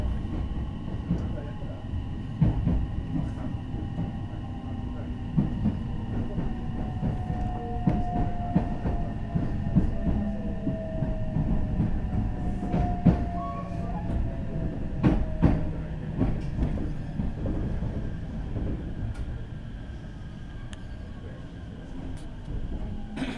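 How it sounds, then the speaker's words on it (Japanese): A train rolls steadily along the rails, a low continuous rumble with rhythmic clicks and faint squealing tones, moderately loud and unbroken throughout. "もう一度電車が動き"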